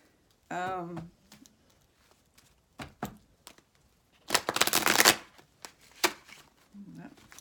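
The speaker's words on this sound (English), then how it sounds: "Cards don't want to be shuffled anymore." Playing cards being shuffled nearby, with a loud riffle burst midway amid scattered taps and card snaps, plus a brief voice at the start.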